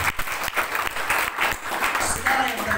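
Congregation clapping together during a church sermon, a steady, dense wash of applause sustained throughout, loud and close.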